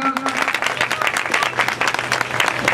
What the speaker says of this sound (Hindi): बिल्कुल एक बार जोरदार तालियां